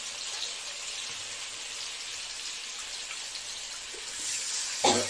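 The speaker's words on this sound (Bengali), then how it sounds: "তারপর একটুখানি জল দিয়ে দেবো, কারণ এটা তো শুকনো গুঁড়ো" A little water is poured onto ground spices in a pan, making a soft, quiet hiss and trickle that swells briefly near the end.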